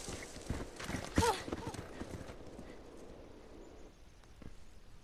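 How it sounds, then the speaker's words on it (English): Horse hooves clip-clopping in the video game The Last of Us: a few close, sharp hoof knocks near the start with a brief animal call, then fading to a soft background murmur. "I'm surprised the horse is still alive."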